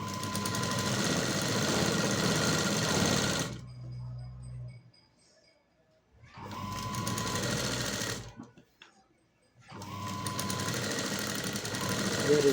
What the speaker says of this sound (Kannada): ಇದನ್ನು ಮೇಲೆ ಒಂದು ಹೊಲಿಗೆ ಹಾಕ್ತಾಯಿದ್ದೀನಿ.